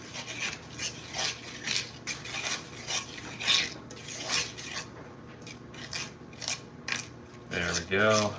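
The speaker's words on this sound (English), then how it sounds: "Getting that butter and that brown sugar mixed in" Butter and brown sugar stirred in a pan for bananas foster, giving a repeated rasping scrape of the spoon in a steady back-and-forth rhythm, close-up, with a brief clatter near the end.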